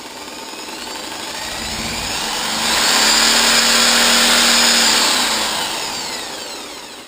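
A Lucas KNV magneto spins up on a test rig, with a mechanical whine that climbs in pitch and loudness, holds for a few seconds, then winds back down over a steady hum.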